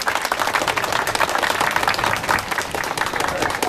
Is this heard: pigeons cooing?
no